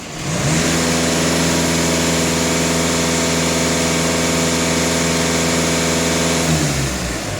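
A VW Golf 2.0 TDI diesel engine idling steadily, a loud, even mechanical drone with a constant low hum, close up and alone, cutting off near the end.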